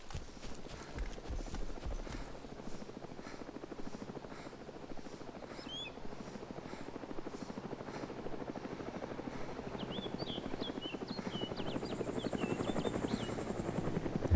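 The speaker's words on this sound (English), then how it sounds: "Helicopter." A helicopter in the video game DayZ flies overhead, its steady rotor chop pulsing throughout and growing gradually louder toward the end, with faint bird chirps in the background.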